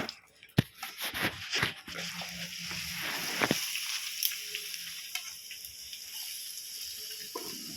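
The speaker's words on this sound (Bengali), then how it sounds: "এবার আমি দেব পেঁয়াজ কাঁচা লঙ্কা দিয়ে দেব" Onion and green chilies hit hot oil in a kadai in a Bengali home kitchen, bursting into a loud, crackling sizzle with sharp clatters for the first few seconds before easing into a quieter, steady hiss.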